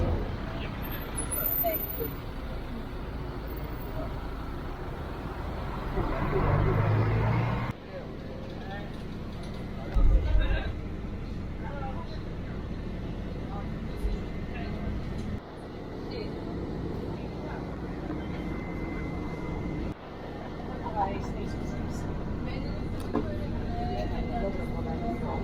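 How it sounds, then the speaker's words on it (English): Number 17 bus in Dubrovnik, heard from inside: a low steady engine rumble with road noise and shifting drive sounds over the whole stretch, with talking at times. "take the number 17 bus from the Pile Gate, which is what I'm about to do"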